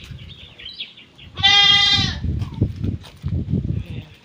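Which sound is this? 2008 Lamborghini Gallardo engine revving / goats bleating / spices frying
goats bleating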